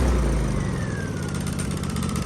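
A Honda EU2200i inverter generator runs steadily while warming up, a continuous close engine drone with a low hum and slight rhythmic flutter, no voices.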